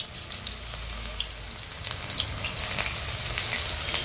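Spoonfuls of banana flower batter sizzle and crackle in hot oil over a low-heat clay stove, a steady frying hiss with scattered pops and spits, close and continuous.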